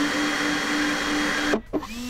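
An RC electric ducted fan motor whines steadily with a fixed tone, then its ESC brakes it to a hard stop and the sound cuts out abruptly, followed by a brief second burst and stop.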